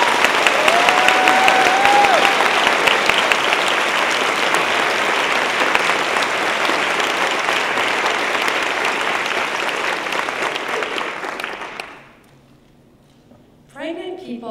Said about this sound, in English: I just want a huge round of applause for all the other readers today